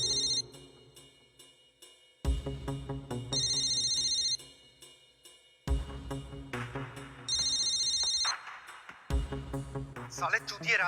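A mobile phone left behind rings with a melodic ringtone that repeats in loud, regular bursts separated by brief pauses, close and clear.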